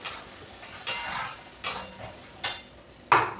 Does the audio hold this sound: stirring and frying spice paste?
yes